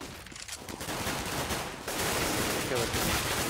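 Rapid gunfire bursts in a CS:GO esports match, dense crackling shots layered with game ambience and running under a caster's commentary.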